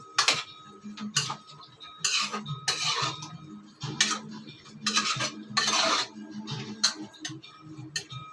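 Metal spoon stirring turmeric into chicken liver curry in a pan, Telangana style, giving repeated scraping and clinking strokes in an irregular rhythm, close and fairly loud, with no talking.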